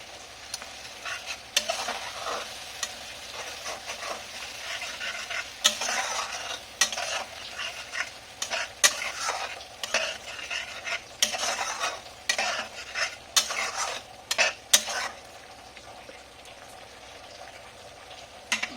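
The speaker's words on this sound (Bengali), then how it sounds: "এই যে আমি এটা ভেজে নিচ্ছি, ভালো করে কষিয়ে নিচ্ছি" Masala for egg rezala frying and being stirred in a pan, a continuous sizzle broken by repeated sharp scraping clacks of the spoon, close and fairly loud with no talking.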